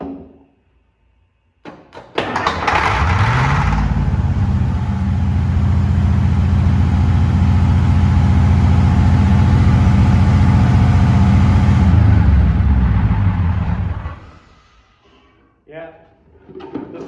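An International 9-liter diesel with a faulty injection pump cranks, catches and runs loud and steady for about ten seconds, then shuts down, with a few faint sounds trailing after.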